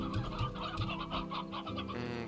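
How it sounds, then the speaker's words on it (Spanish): Chickens clucking in the video game Slime Rancher, several birds giving short repeated clucks and calls, moderately close and quiet, with no voices. "Demasiadas gallinas."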